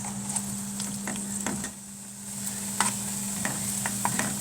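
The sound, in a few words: garlic frying in oil in a pan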